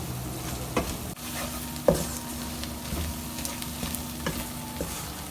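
Flour cooking in a pan of browned onions for a chicken roti roll filling, sizzling steadily while a spoon scrapes and stirs with irregular knocks against the pan, close and fairly quiet, with no voices.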